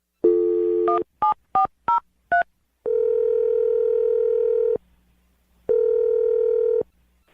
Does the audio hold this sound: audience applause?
no